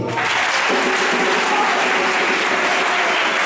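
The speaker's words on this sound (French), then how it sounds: "On acclame le Seigneur." A church congregation at a consecration service bursts into loud, sustained applause, with a dense crowd clapping steadily for several seconds.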